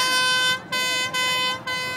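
A loud, steady blaring vuvuzela tone held in long blasts with brief breaks between them, buzzing and harsh, at Dubai's world-record fireworks display.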